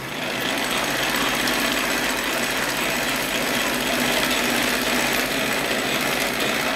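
A Wilart 35mm motion picture camera being hand-cranked gives off a steady, continuous mechanical whir and clatter, close and fairly loud, holding an even level for several seconds with no pauses.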